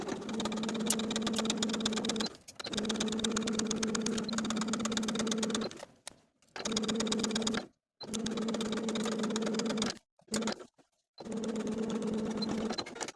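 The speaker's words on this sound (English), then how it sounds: "I'll sew the binding in place from center back to center back with a 3/8 inch seam allowance" A sewing machine stitches neckline binding onto a raglan-sleeve top, running in steady buzzing bursts of a couple of seconds with short stops between, close and fairly quiet, with no talking.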